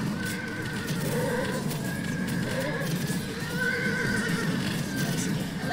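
Video-game horses in Animal Revolt Battle Simulator neigh repeatedly over a continuous clatter of hooves and busy battle noise, loud and dense throughout.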